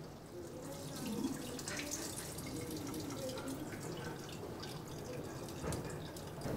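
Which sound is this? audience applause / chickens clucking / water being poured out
water being poured out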